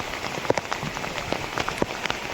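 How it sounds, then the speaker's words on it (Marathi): Rain falling through thick fog on the road near Kothaligad fort, Karjat, a steady patter with scattered sharper drops striking close by, with no voices. "एवढा पाऊस पडायला सुरुवात झालेली आहे धुक्यांमधून"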